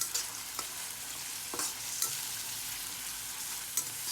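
Onion, green chili, cinnamon and cardamom fry in hot oil, giving a steady close sizzle with a few sharp scraping stirs of a spoon, no voices.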